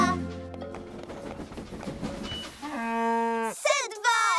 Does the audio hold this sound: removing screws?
no